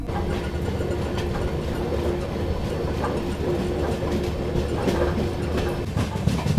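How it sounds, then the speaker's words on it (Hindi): The Donyi Polo Express, running from Naharlagun toward Gumti halt, rumbles steadily from inside the carriage, a continuous loud roar with rhythmic clickety-clack of wheels over rail joints and a faint sustained hum. "यहाँ पर दोस्तों ट्रेन जो है अपने पहले ही हॉल्ट पे पहुँच रही है।"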